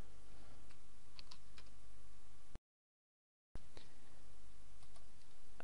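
Password keys tapped on a computer keyboard during a WordPress login, quick light clicks in two short bursts separated by a brief gap of silence, close and clear with no talking.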